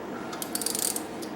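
A 12 mm socket wrench tightens the bolt on a hot tub pump bearing, making a short run of quick, close ratchet clicks.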